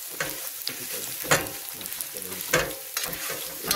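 Creamy scrambled eggs frying and being stirred in a pan, a steady close sizzle broken by several louder scraping stirs, with no talk over it.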